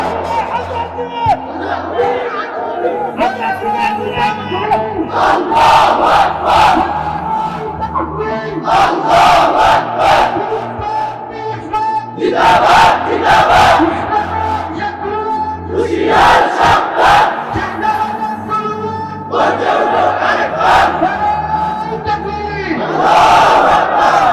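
A large crowd chants slogans in loud, rhythmic call-and-response bursts, several swelling waves of massed voices repeating at regular intervals, close and dense.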